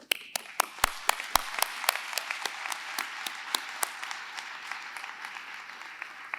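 Graduates at a Ferris State University pharmacy commencement clap for themselves, a sparse scatter of sharp individual claps rather than a thick roar, fairly close and moderately loud, with no talking.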